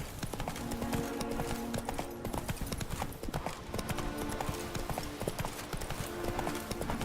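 Roach the horse in The Witcher 3 gallops, hooves clip-clopping in a fast continuous rhythm, loud and close against busy game ambience.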